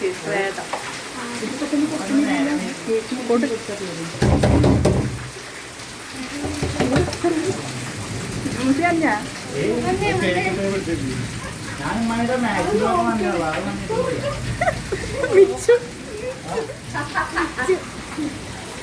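Heavy rain falls on a road at night during a difficult drive, a steady broadband hiss running through the whole stretch beneath people talking, with one brief louder burst near the middle.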